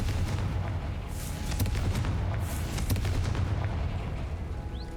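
Confringo fire spell blast in the video game Hogwarts Legacy, a series of booming explosive bursts and pops over a low rumbling game soundscape, fairly loud with no talk.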